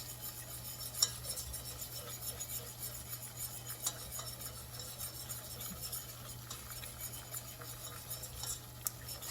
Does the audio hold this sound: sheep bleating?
no